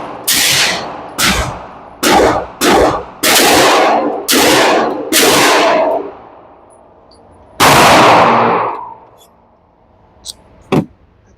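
A pistol fires a string of loud, close gunshots at a target outdoors, about eight cracking reports with uneven gaps, then a ringing metallic clang.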